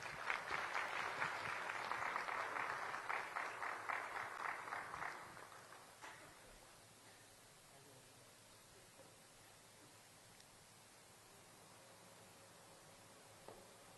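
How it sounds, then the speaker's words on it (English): Applause from an audience at the inauguration of the Society of Indian Law Firms building, a dense clatter of clapping for about five seconds before it fades to quiet room tone. "Let us hear a round of applause."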